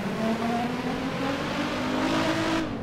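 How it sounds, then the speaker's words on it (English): A Nissan GTR R35 in GTA 5 holds a steady, loud engine drone with a rising, revving pitch throughout, close and continuous without any talk. "The Nissan is so loud."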